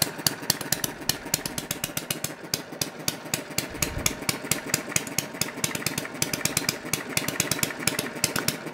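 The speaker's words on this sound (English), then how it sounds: "Now, I've never been able to start this engine like that before with just a twist." A Chinese-made hit and miss engine runs steadily on its own, a fast, even train of sharp firing pops over a broad mechanical clatter, fairly close and continuous with no talk.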